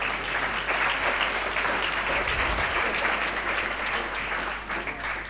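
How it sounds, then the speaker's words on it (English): An audience applauds panel members being introduced at a marketing industry panel, with steady, dense clapping that stays loud and sustained for several seconds before easing slightly at the end. "give them a warm round of applause,"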